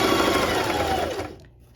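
A sewing machine stitches a fabric face mask with a steady, close, loud motor whir that runs continuously, then stops abruptly near the end, leaving only faint background.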